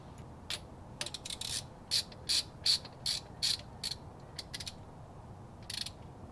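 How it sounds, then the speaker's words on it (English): A wrench clicks as it tightens the crank pulley bolt on a 2002-2005 Toyota 4Runner, giving a run of short, sharp ratcheting ticks in uneven bursts, close and fairly quiet, with no talking. "we're going to tighten the nut down to 217 foot-pounds with the torque wrench"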